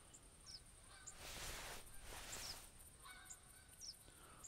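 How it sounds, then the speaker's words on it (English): Canada geese honk across a distant flock in the video game theHunter Classic, faint scattered calls over a soft breezy ambience with two broad swells of wind-like noise. "This is quite a big one flying in a nice V shape."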